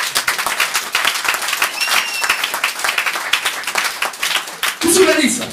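A church congregation applauds and cheers loudly and steadily throughout, with a voice briefly rising over the clapping near the end.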